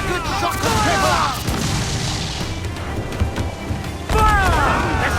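Ship cannon fire in Assassin's Creed 4: Black Flag during a naval battle: deep booming blasts with rumbling tails, loud and close, a heavy salvo near the start and another late, set against battle ambience and shouted crew orders.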